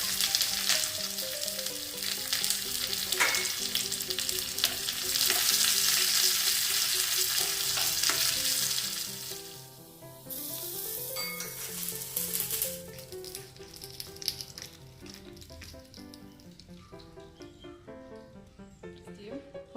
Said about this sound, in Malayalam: ഒരല്പം എണ്ണ ചൂടാക്കിയിട്ടുണ്ട് അതിലേക്ക് കടുക് ചേർത്ത് കൊടുക്കാം